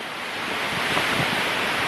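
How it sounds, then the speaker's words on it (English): Strong wind buffets the microphone in Rocky Valley, Cornwall, while sea waves crash just behind the rocks. The roar is dense and continuous, with no voices. "the wind down here is pretty bad because right, the sea's just behind these rocks here"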